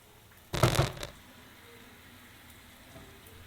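Marinated chicken drops into a pan of frying spice paste with a sudden loud burst of sizzling that fades after half a second into a quieter, steady frying crackle.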